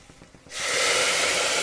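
Nearly two glasses of water poured into a hot pan of frying lentils, setting off a sudden loud, steady hiss and sizzle after a moment of quiet cooking crackle.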